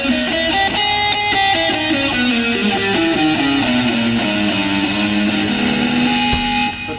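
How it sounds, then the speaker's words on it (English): An electric guitar plays a harmonic minor scale, with single notes stepping up and down in a quick, even run. The tone is loud, close and sustained, with no talking. "Harmonic minor sounds like this."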